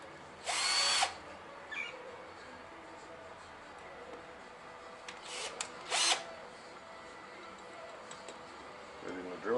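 A cordless power drill in a shed whirs in two short, loud bursts near the start and again around the middle, with a quieter blip between and a brief rise at the end, over low background noise.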